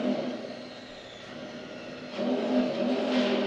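Small RC tank fitted with an FPV camera drives through a darkened room indoors, its electric motor and gearbox whirring steadily at close range, growing louder partway through, with no talking.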